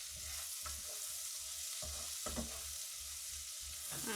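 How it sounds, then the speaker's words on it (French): Shallots sizzle and caramelize in a hot pan, a soft steady frying hiss broken by several stirring scrapes, heard close and fairly quiet with no talk. "Et on va caraméliser"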